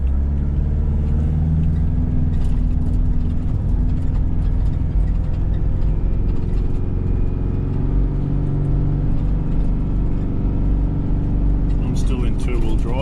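A two-wheel-drive car drives on a sandy beach with a steady, close engine rumble and low road noise throughout, while people talk over it.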